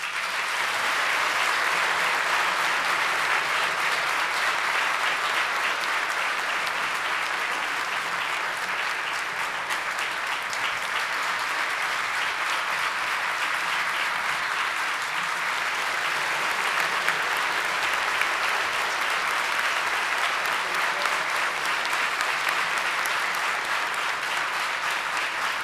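Sustained applause from a crowd at a Serbian Statehood Day celebration in Toronto, honouring artists from Serbia; dense, steady clapping continues for the whole stretch without a break.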